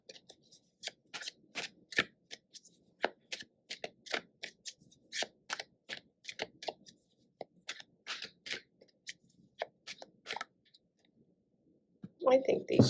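Tarot cards are shuffled and handled up close in quick, crisp flicks and snaps, a rapid irregular run of soft clicks that trails off, followed by a brief louder rustle at the end.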